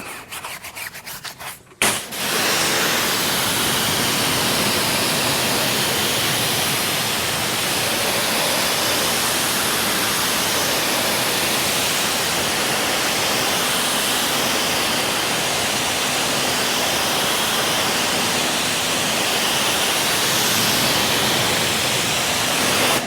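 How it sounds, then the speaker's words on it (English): A Carton sprayer applies product while washing a Tesla Model 3 Performance, producing a loud, continuous hissing spray that starts after a brief pause and runs unbroken to the end, with no talking. "I'm fumbling around trying to get this Carton sprayer figured out."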